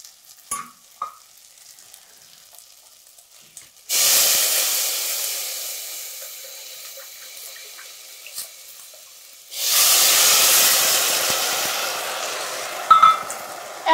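Vegetable broth poured into a hot pan of seared tofu with garlic and ginger gives two loud bursts of hissing sizzle and steam, each fading slowly, with faint kitchen clatter in the quiet gaps between them.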